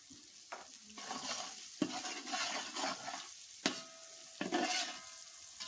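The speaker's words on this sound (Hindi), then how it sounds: "और इसको अच्छी तरह से भून लेंगे" Spices with salt, red chilli and turmeric stirred and fried in a pot as the base for chana pulao, several scraping stirs over a steady close sizzle, with no talking.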